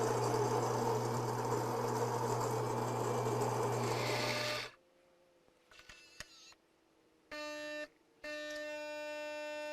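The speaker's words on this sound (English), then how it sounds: "Hear the coffee being ground." A Gaggia Cadorna espresso machine's built-in grinder grinds coffee beans with a loud, steady whirring buzz for about five seconds, then cuts off, leaving quieter machine tones and short electronic hums.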